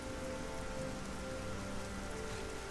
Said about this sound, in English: Rain, rain, go away, come again some other day.